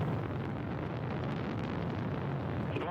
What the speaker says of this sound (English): The thrusters of the first and second stage are operating nominally.